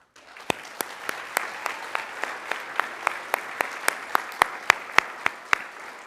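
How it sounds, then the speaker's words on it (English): Sparse, distinct hand claps at a board of directors meeting honoring families, a slow steady rhythm of individual sharp claps over a quiet room, with a few louder claps near the end. "Please join me in an applause."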